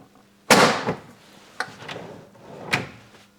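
A Blum Merivobox metal drawer front snaps into place with a sharp click, followed by two fainter clicks as it is seated, close and alone.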